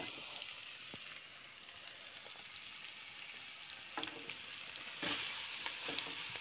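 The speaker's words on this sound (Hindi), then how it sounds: "घी अच्छी तरह से गर्म हो चुका है, अब हम इसमें गाजर ऐड करेंगे" Carrots frying in hot ghee for gajar halwa, a steady dense sizzle with crackling that grows louder near the end, close and continuous with no voices.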